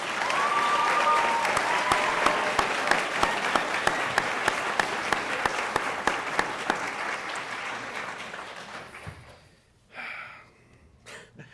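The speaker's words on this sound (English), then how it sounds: "Another round of applause for all of our contestants." Audience applause for contestants at the 2016 Bailey Oratorical, steady dense clapping from a full hall for about nine seconds, then thinning and fading out with a brief final flurry.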